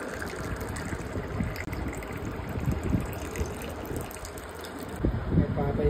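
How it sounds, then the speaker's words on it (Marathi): Water poured into a glass set over a phone's light, a steady close trickle and gush of liquid running the whole time beneath a broad background noise. "आता ग्लासात भरतो पाणी"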